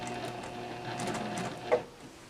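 A sewing machine back stitching the binding onto a crochet blanket, a steady mechanical whirring run that ends with a brief louder clunk before quieting, close by and without talk.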